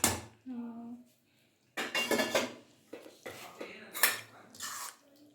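Spoons and bowls clink and clatter while a masala puri party is set up at home, with several sharp close knocks and scrapes separated by pauses and a soft voice speaking faintly between them.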